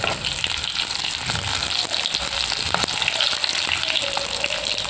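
Cloves, cardamom, cinnamon, bay leaves and three dried red chillies sizzle in hot oil in a pan for a village-style chicken curry, a loud continuous crackling fry with occasional scrapes and taps of stirring, no talking.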